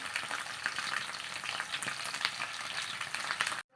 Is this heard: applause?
no